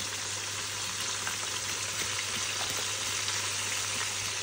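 Chicken deep frying in oil makes a dense, continuous bubbling sizzle at an even level throughout, with faint scattered pops and a low steady hum beneath; no talking.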